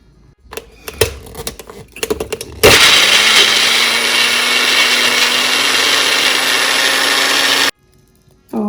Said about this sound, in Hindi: ये जो मैंने लहसुन और हरी मिर्च ली है इसको हम ग्राइंड करेंगे